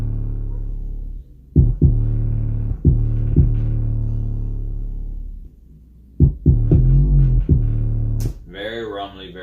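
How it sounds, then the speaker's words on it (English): A rumbly, loud, distorted 808 bass from a chill hip hop beat built in Ableton, deep sustained booming notes with sharp attacks in a slow pattern, heard alone and up front. "We started off with an 808 actually"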